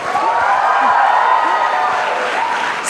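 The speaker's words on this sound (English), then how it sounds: "Guys, I think we need a louder cheer for this" A crowd at a live stage event in Mumbai cheers, a sustained wash of voices and whoops that stays loud and even throughout, with scattered shouts rising above it.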